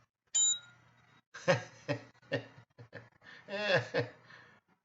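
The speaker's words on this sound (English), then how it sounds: "I like the bell." A bell alert chimes on a forex trading platform, a bright ding at the start that rings out, followed by someone talking over it.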